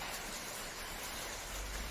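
Hailstones fall outdoors beside a rusty Citroen BX, making a faint, steady broadband patter and hiss that continues without a break. No one speaks.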